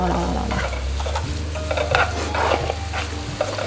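Peda salted fish sizzles and fries in a pan while a utensil stirs it, with continuous loud crackling, scraping strokes and occasional clinks, close up.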